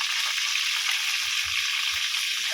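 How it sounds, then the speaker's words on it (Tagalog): Tulingan fish frying in a pan over a wood fire, with a loud steady sizzle and crackle throughout, close by, plus a few soft low knocks. "Yung pinipritong tulingan."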